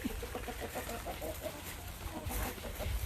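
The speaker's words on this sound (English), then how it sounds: "The rooster says hello to you." Rooster and hens clucking around a farm barnyard, a steady run of short, close clucks over breezy background noise, with no one speaking.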